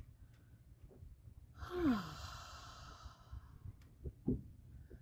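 During a yoga practice, a single soft breath is let out through the mouth, a brief sigh-like exhale in an otherwise quiet room, followed by faint small noises.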